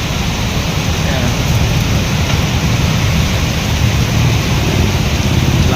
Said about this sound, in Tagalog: Lakas na naman ang buhos ng ulan.